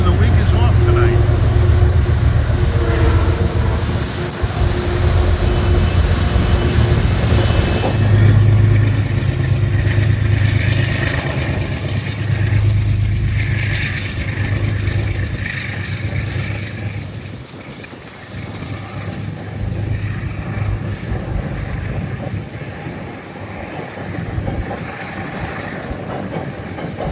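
Metro-North train 851 bound for Beacon, led by engine 209, rolls past at night in New York City, a loud, close rumble with steady clickety-clack from the wheels that gradually fades, while wind and voices are heard.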